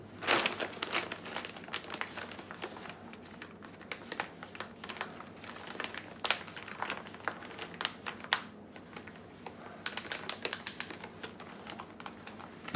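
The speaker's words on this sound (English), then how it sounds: "But right now, I'm going to zip this shut." A Mylar bag of freeze-dried food is handled close by, with crinkling plastic and a run of small rapid clicks as its zipper closure is pressed shut, with no talk.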